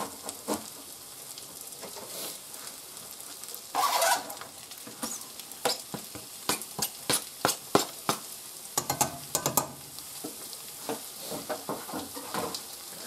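Onions fry in a pan with a continuous sizzle, broken by frequent sharp scrapes and clacks of stirring and a few louder bursts of crackle.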